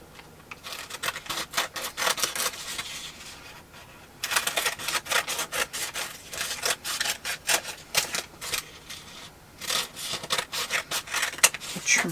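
Paper scraps being trimmed for a junk journal: steady rasping, snipping strokes in repeated bursts, close and fairly quiet, with brief pauses between runs and no talking.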